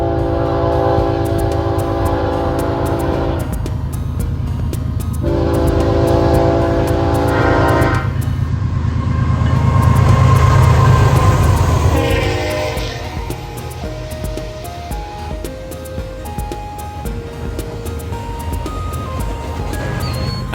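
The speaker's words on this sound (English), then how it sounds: "I finally caught my first train, the QLAC NSA, heading east with an NS AC44C6M third out." An eastbound freight train with an NS AC44C6M locomotive third in the consist rolls past loudly and close, its horn sounding in long blasts over the heavy rumble and clatter of passing cars.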